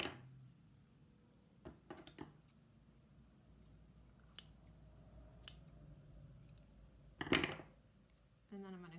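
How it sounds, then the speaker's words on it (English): Scissors snipping off an extra piece of a sock, a few sharp crisp cuts and clicks spread over a quiet background, close and brief. "I'm going to go ahead and cut this little extra piece of the sock off here"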